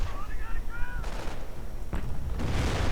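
Gunfire rattles in a World War II strategy game as Panther tanks and half-tracks tear into riflemen, with repeated sharp bursts and shots, the battle noise running under a commentator's voice.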